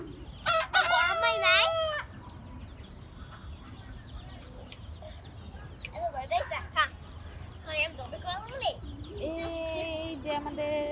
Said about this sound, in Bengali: এই মুরগিটা, চুকি মুরগিটা খাবারগুলো খাইতেছে টুকুর টুকুর করে।